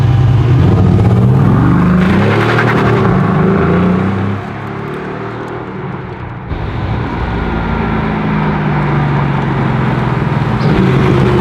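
A Mercedes-AMG GT R Pro sports car drives off on a road, its engine revving loud and close with rising and falling pitch, dipping briefly midway before picking back up, no talk over it.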